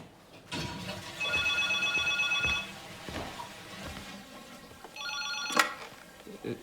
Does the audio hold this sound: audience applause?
no